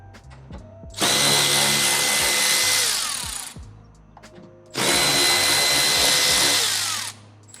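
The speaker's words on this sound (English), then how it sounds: "we're going to need to remove these factory screws so we can begin mounting the mud flap." A power drill backs factory screws out of a Gen 3 Toyota Tacoma during a mud flap install, two loud, close bursts of high whirring a few seconds each, separated by a quieter pause.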